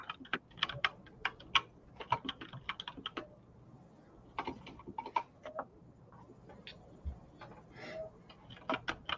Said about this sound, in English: This is a special gaming keyboard. It's supposed to make noise